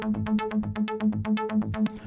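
Saw synth arpeggios from FL Studio stock plugins for an Afro tech beat ripple in quick, evenly spaced plucked notes over a low sustained tone, bright and rhythmic, playing alone.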